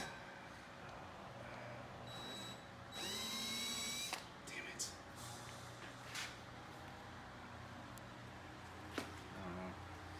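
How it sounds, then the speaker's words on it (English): Power drill boring holes into the bodywork of a Corvette C6 Z06 for a spoiler install, a short whining burst of drilling amid quieter garage noise and a few clicks and knocks. "that's a big drill bit you're using on the car there"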